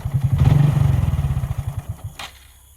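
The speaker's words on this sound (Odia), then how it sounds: "ଗାଡ଼ି ଷ୍ଟାର୍ଟ ହେଉଛି, ପୁଣି ବନ୍ଦ ହେଇଯାଉଛି।" A motorcycle engine sputters to life with a loud, rapid low chugging, then slows and dies out within a couple of seconds, leaving a brief clack and near silence, close to the listener at night.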